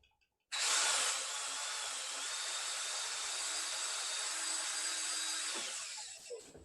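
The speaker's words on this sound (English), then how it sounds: "So I'm holding my drill under my table and I put my microphone up." A handheld power drill held under a table runs steadily for about six seconds, starting abruptly with a loud, continuous high whine, then slowing and cutting off near the end, with no talking.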